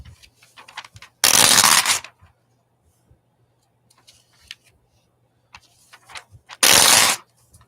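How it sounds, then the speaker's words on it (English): Two loud bursts of paper rustling and tearing as pages are ripped out of a book, each lasting under a second, close up, with quiet pauses and faint clicks between. "This paper is very loud."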